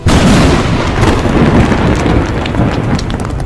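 A loud, continuous rumbling boom fills the whole moment, a dense crackling roar like a close thunderclap rolling on without pause.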